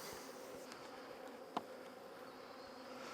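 Honeybees buzz faintly around a brood frame, a soft, constant hum with a small knock partway through.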